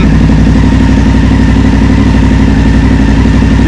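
A BMW F750GS motorcycle engine idles steadily up close, a loud continuous low throbbing rumble with an even pulse and no voices.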